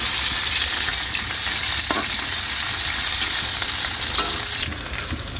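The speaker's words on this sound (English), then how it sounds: "I'm adding now onion and chili, green chili. I'll fry some time" Onion and green chili sizzle and fry in a pan for a Nepali mushroom dish, a loud steady hiss with occasional stirring scrapes, continuing without letup and easing slightly near the end.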